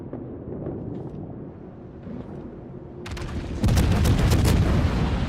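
Ship guns fire in World of Warships from a tier 10 British cruiser, Minotaur: a low rumbling barrage builds into sharper crackling shell volleys that turn loud and dense over the last couple of seconds.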